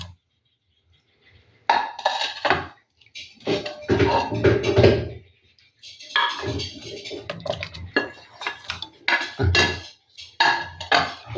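Chopped ingredients tipped into a Kerala fish curry pot, heard as bursts of clattering and scraping of metal utensils against the pot, separated by short silent gaps; no talking.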